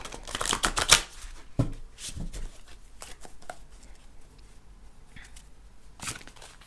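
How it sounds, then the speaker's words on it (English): Tarot cards being shuffled by hand, a quick burst of riffling and flicks up front, then scattered soft card slaps and taps, close and crisp in a quiet room. "And one more shuffle, and then we'll cut."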